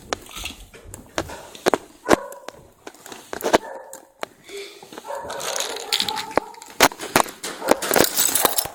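A pet dog makes excited, scattered yaps and whimpering noises indoors, mixed with rustling, shifting and brief talk from people nearby.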